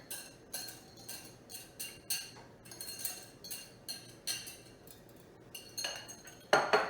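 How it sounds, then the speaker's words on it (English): A spoon scrapes and clinks rhythmically against a bowl while flour and liquid ingredients are mixed into bread dough, roughly one stroke every half second, close and fairly quiet with a louder clatter at the end. "I'm going to stir this just until it's moistened and I don't see any flour mixture"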